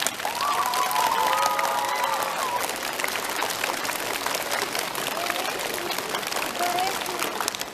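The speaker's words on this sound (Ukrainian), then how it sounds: "Оплески Оксані Юрівні." A school audience applauds a teacher at a lyceum year-end event, steady broadband clapping filling the whole stretch under a voice and crowd murmur.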